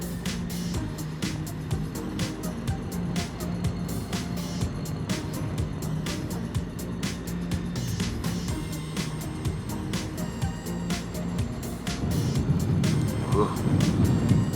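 A 2021 Harley-Davidson Street Bob motorcycle is heard on the move as a steady, loud engine rumble with rhythmic pulses and wind noise, rising slightly near the end.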